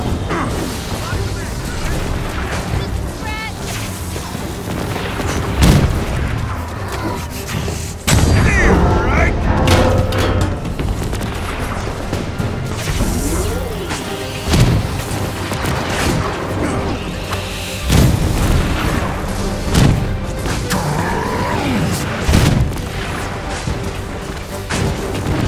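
Explosions and crashing blasts as the power core is destroyed in Marvel's Avengers, repeated loud booms and impacts over a dense mechanical din of battle.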